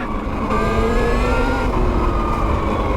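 An electric dirt bike motor revs in turbo mode, giving a steady, loud whine with rising tonal bands over a constant mechanical drone, close by and without talk.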